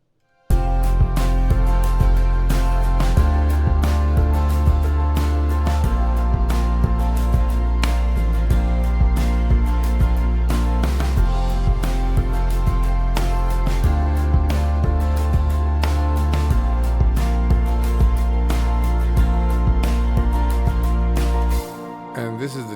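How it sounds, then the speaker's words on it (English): An eight-bar music loop built from bass, guitar, synth, keys and light drums rolls through a repeating chord sequence, with a deep bass line shifting under dense layered instruments, loud and steady until it cuts off near the end. "8-bar loop with bass, guitar, synth, keys, and a bit of drums"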